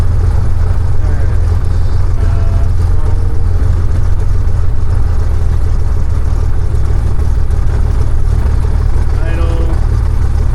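Small aircraft engine idling steadily after a cold start, a loud continuous low drone filling the whole stretch with faint voices over it.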